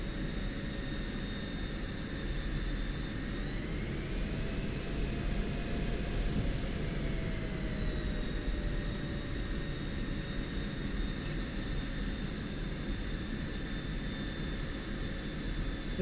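F-16 jet engine roaring during takeoff in the DCS World flight simulator, a steady loud turbine whine and rumble whose pitch rises and falls slightly midway, heard alone without talk.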